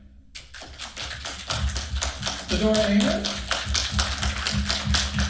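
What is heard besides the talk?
audience round of applause for guest authors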